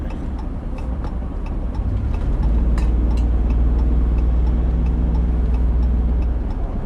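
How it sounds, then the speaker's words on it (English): Road traffic passes close by in a loud, continuous rush of tire and engine noise that swells and holds steady, with faint ticking on top. "A lot of traffic on this side."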